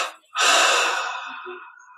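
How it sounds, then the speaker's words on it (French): A single deep, breathy exhale during a guided meditation, close and soft, starting after a short inhale and trailing off slowly into quiet. "En expirant 3 fois."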